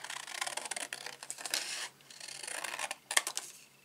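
Scissors snip through card stock for a handmade stamped greeting card, a series of close crisp cuts and rustles with a short pause midway before the cutting resumes, ending in a sharp snip.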